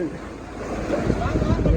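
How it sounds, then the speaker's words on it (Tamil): Floodwater surging and splashing in a severe flood in the Eastern Province, a steady rushing roar with wind buffeting the microphone and indistinct voices in the background. "தண்ணி அடிக்கிறத பாருங்க"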